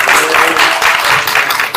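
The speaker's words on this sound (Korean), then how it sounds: "큰 박수 한번 보내주시기 바니다" Loud, dense applause fills a church hall after a Thanksgiving Sunday poetry recital, a continuous close wash of many hands clapping with no voices over it.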